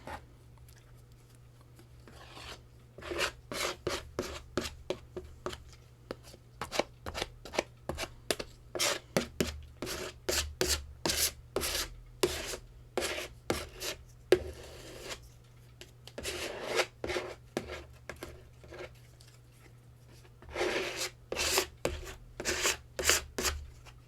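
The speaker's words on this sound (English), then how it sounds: "I am spreading it around with my scraper" A scraper drags heavy body acrylic paint across a canvas in a steady run of close, rasping strokes, each a short gritty swipe, with a brief pause midway before the strokes resume.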